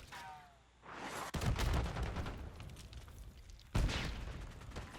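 An SMG fires in Call of Duty in dense, loud bursts: one rattling volley that fades, then a second sharp burst near the end, with game noise between.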